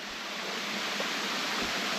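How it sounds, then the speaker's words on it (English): At Round Island Falls, water rushes over the falls in a dense, unbroken roar, a steady hiss of even loudness with no voices. "all that water coming over them falls"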